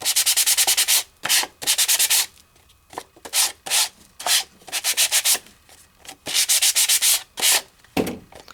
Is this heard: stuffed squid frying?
no